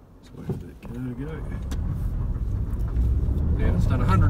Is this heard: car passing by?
yes